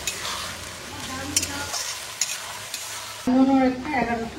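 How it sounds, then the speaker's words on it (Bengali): Ginger garlic paste fries with onions in a pan, sizzling while a utensil stirs and scrapes; a brief voice comes in near the end over louder frying. "দিয়ে আমি পেঁয়াজ ভাজার সাথে আদা রসুনটাকে ভালো করে মিশিয়ে নিচ্ছি"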